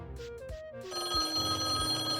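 Telephone bell ringing indoors, a bright metallic ringing tone that swells and continues steadily, moderately quiet with no talk over it.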